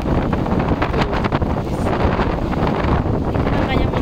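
Strong typhoon wind buffets the microphone in a steady, roaring rush with rumbling gusts throughout, wind from Typhoon Kristine, while a voice speaks faintly underneath.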